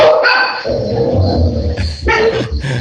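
Several dogs bark loudly and close by in an indoor studio, sharp bursts of barking in two or three clusters with short yips between them.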